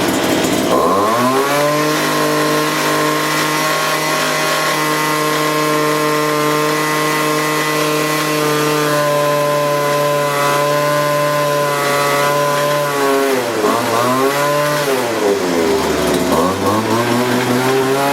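A gas-powered leaf blower engine runs steadily for a long stretch, loud and close, with a strong buzzing whine. Near the end the engine dips and bogs twice as if choking, then recovers.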